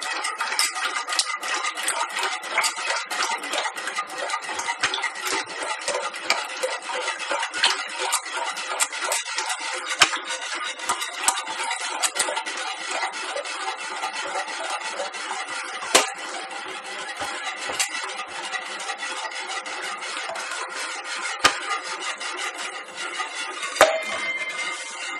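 White chocolate, milk and gelatin mixture being poured and stirred in a bowl, a steady soft scraping and swishing with occasional light clinks of utensil against the container, close and continuous with no talking.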